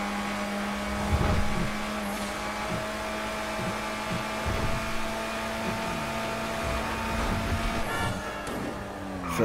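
Grotti Brioso RA, a small compact car in GTA V, driving with a steady buzzing engine drone and repeated quick gear-shift dips, loud and close with no talk.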